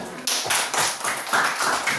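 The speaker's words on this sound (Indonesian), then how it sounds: "Oke, tepuk tangan buat semuanya." A burst of clapping from a small group of students in a classroom, quick overlapping hand claps lasting about two seconds, fairly close and steady.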